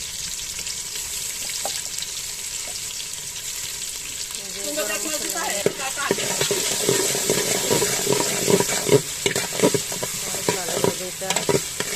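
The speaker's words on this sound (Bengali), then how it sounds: "ভেজে নেব, ব্রাউন কালার করে নেব।" Soaked mashkalai dal frying with onion and garlic in a pan, a steady close sizzle with scraping stirring strokes that grow busier midway, while a voice speaks briefly over it.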